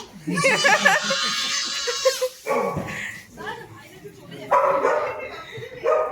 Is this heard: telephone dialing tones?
no